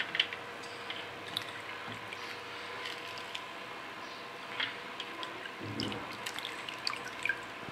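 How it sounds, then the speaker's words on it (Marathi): Water drips and trickles from a washed bitter gourd as it is squeezed by hand, a faint, scattered run of small splashes and wet squishes over a soft, steady background. "त्यानंतर ती मस्त अशी पिळून घ्यायची थोडी, त्यातलं पाणी सगळं निघून गेलं पाहिजे।"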